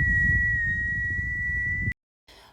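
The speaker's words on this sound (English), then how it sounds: "this will produce a higher pitch of whistle" A higher-pitched mouth whistle made through tightly pursed lips holds one steady clear tone for about two seconds, then stops abruptly into silence.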